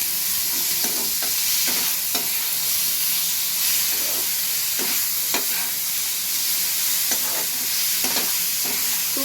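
Onion, cashews, ginger, garlic and tomato stir-fried together in hot oil, a steady loud sizzle and hiss with repeated scraping stirs of a spatula throughout.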